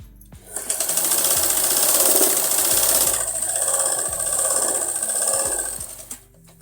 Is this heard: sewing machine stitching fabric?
yes